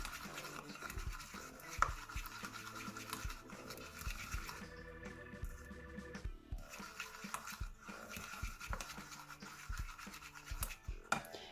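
Homemade slime thickened with salt being mixed by hand, close wet squishing and scraping with irregular rhythmic strokes, fairly quiet, no talking.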